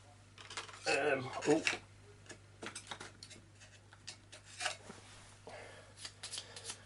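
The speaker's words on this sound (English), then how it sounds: "Got to shuffle in that stealth that Amanda didn't use." Arkham Horror game cards being shuffled by hand, a quick riffle of papery flicks and taps close by, followed by scattered lighter card handling sounds at a moderate level.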